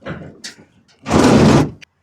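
A part on a 1969 Ford F100 pickup being sectioned and Z'd slams shut with a loud, broad impact lasting about half a second, preceded by quieter clunks and shuffling and followed by a brief click.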